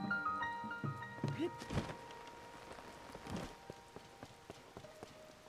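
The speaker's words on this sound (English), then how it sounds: "Is it supposed to be raining when I come here?" Rain falls in The Legend of Zelda: Tears of the Kingdom, a steady, soft patter with a few louder thuds and faint tonal game music underneath.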